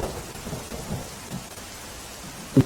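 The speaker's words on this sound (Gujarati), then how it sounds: "ધોધમાર વરસાદ, જે સાર્વત્રિક વરસાદ વરસી રહ્યો છે" Heavy rain hissing steadily in Dahod district, Gujarat, with low rumbles of thunder, ending in a sharp, brief crack close by.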